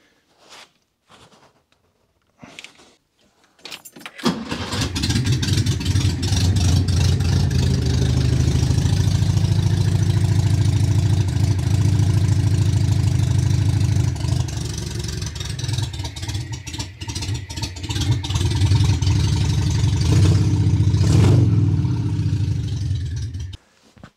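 A Škoda 105 barn find, back running after 25 years with fresh oil, a new oil filter and repaired misfires, starts after a few clicks and then idles loudly and steadily close by with a low, slightly uneven rumble and no talking.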